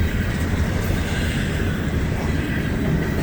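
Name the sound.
intermodal freight train passing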